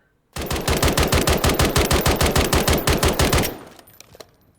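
A SIG SPEAR Assaulter K rifle in Call of Duty: Modern Warfare III fires one loud, close, fully automatic burst of about eighteen rapid, evenly spaced shots lasting three seconds, then a short echoing decay.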